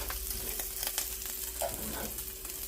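Bacon fries in a skillet with a steady, close crackling sizzle, faint pops and a light scrape or two, with no one talking.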